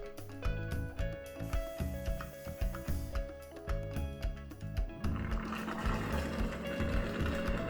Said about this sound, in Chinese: 洗抹布的声音还挺大的。